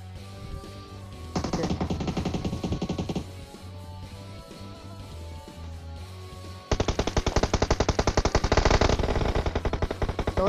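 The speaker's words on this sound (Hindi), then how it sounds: "कवर फायर दो।" Bursts of automatic gunfire in a PUBG Mobile match: a loud sustained volley, a quieter stretch of game ambience, then a longer, louder rapid-fire burst close by.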